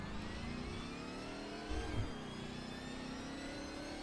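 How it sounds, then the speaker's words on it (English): Video-game DeLorean in Roblox Greenville accelerating, a steady mid-pitched engine whir slowly climbing in pitch, with a brief louder bump partway through, heard alone at close range. "let's launch this car now. Takes a while to pick up, but give it a second."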